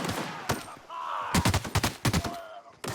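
Gunfire against marauders in The Outer Worlds: a quick series of sharp, close shots fired in short clusters, loud and punchy with brief gaps between them.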